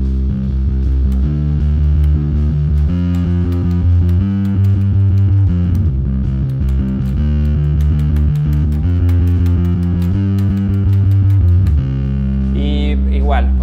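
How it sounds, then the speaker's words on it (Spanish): Electric bass runs through an Electro Harmonix fuzz distortion model on a Nux MG30 multi-effects unit, playing a steady, loud, thick distorted riff of repeating notes with no talk. "Esta distorsión, por ejemplo, de Electro Harmonix, que es como un fuzz"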